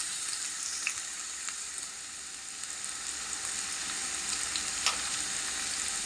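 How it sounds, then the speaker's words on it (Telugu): Sliced onions fry in hot oil in a pan for a korameenu fish curry with raw mango. The sizzle is soft and continuous, with a few light stirring scrapes and no voices. "ఉల్లిపాయ వేస్తున్నాను."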